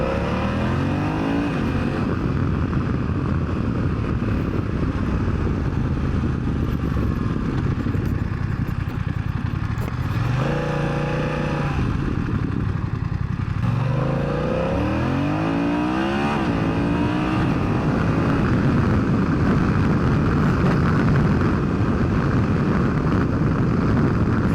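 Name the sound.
BMW F900XR motorcycle riding, engine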